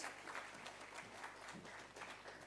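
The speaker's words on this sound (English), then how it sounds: "please give him a warm round of applause and welcome to the stage" Faint, steady applause from an audience welcoming a speaker to the stage, a continuous soft patter of many hands with no voices over it.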